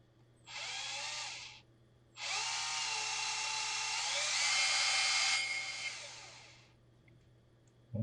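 A power drill fitted with a 5.2 mm bit enlarges a hole in tubing during an inline four-cylinder engine build: two close, steady high-pitched whirring runs, a short one followed by a longer one, with no talking.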